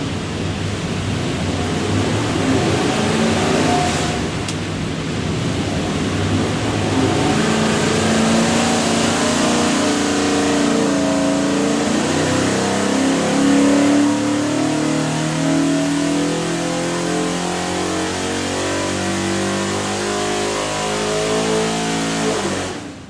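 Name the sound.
347 stroker small-block Ford engine revving on a dyno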